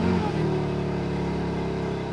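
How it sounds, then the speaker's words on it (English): BMW G80 M3 on its factory exhaust firing up from cold, a brief starter catch then a steady, fairly subdued idle drone close by, no talking. "let's do a cold start. So we're still on a factory exhaust, so it's really not that loud"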